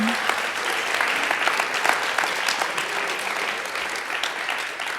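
Applause fills a church service, a steady dense wash of many hands clapping throughout, with faint voices underneath.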